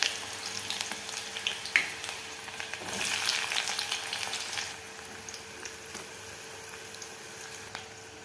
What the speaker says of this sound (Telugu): కరివేపాకు వెల్లుల్లి అయితే వేసుకొని బాగా ఫ్రై చేసుకోండి